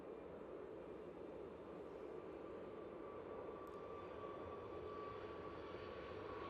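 A Ryanair Boeing 737 MAX 8 on its takeoff roll produces a faint, distant, steady jet roar with a thin high whine running through it, unbroken from start to finish.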